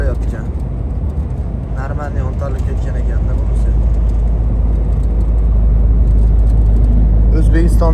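Cars pass on a rough highway in Uzbekistan during a long winter road trip, heard as a steady loud engine and tyre roar close by, with voices talking over it throughout.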